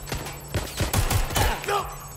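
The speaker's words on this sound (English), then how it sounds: "Target is firing. Go to find cover. Shots fired" Gunfire in the video game Watch Dogs Legion: several sharp shots crack close by in quick succession over about two seconds, mixed with game voices and sound effects.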